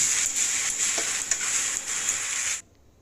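Fried chicken pieces coated in Maggi masala are tossed and stirred in a hot pan, giving a steady loud sizzle with faint scraping that cuts off abruptly near the end.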